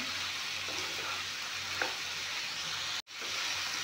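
Raw papaya, green peas and gram dal fry in a pan with a steady, close, low sizzle that continues throughout, broken by a brief gap.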